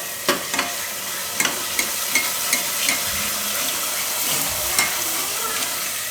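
Red chilli and potatoes being stirred together in a pressure cooker for Gujarati-style dum aloo, with a soft sizzle under a series of sharp spoon scrapes and clinks against the metal pot at an uneven rhythm, close by.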